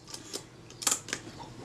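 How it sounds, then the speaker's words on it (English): A Retina IIa camera's shutter release firing: a handful of small, sharp mechanical clicks close up in a quiet room, with the loudest snap near the middle. "The shutter release works much in a manner that's closer to how it should work now."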